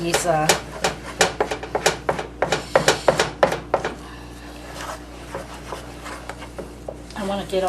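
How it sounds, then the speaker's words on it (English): Spoon stirring a thickening chocolate fudge mixture of melting chocolate morsels in a pot off the heat, a quick run of sharp scraping knocks that slows into sparser scrapes, with occasional talk. "you want to mix this really, really good"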